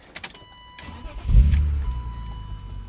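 Convertible car with a power top starting up, a starter crank followed by the engine catching and settling into a close, loud idle rumble.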